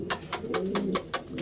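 Domestic pigeons in a rooftop loft cooing close by in a quick, rhythmic series of soft pulsing coos.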